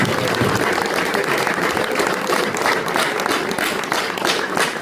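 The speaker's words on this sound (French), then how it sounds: "Je voudrais vous demander de les applaudir." At a Brussels Ingabire Day gathering, an audience claps for a foundation's president and team, a thick, sustained roar of many hands clapping at close range with little variation.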